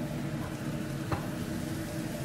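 Oil sizzles steadily in a pan of onions and spices for a Kuwaiti chicken majboos, a dense, even crackle with one brief sharper pop midway and no talking.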